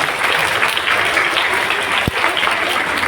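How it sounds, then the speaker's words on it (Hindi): At a ceremony honouring mothers, an audience breaks into loud, sustained applause for Bharti, with dense, even clapping throughout. "एक बार जोरदार ताली भारती के लिए"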